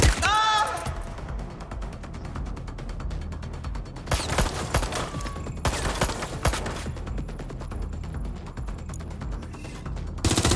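Sustained automatic gunfire in the video game Watch Dogs: Legion, rapid dense bursts running almost continuously with mechanical clatter, loud and close.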